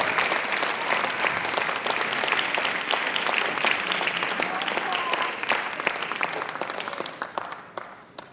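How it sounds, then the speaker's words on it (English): An indoor audience at a Black History Month youth production claps steadily and densely throughout, sustained applause that thins slightly toward the end. "Guys, clap for them."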